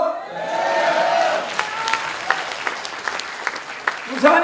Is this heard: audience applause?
yes